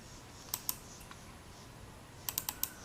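Sharp computer mouse clicks, a pair early on and then a quick cluster of four near the end, close and crisp against a quiet room.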